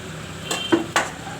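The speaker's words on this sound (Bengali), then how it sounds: "একটা বড় টমেটো কেটে নিয়েছি, এই টমেটোটা এবার আমি ঢেলে দিচ্ছি" Chopped fresh tomato tipped into a pan of browning chicken kosha, giving a few quick clinks and scrapes of utensil against the cookware and a soft plop, close and clear with no talking.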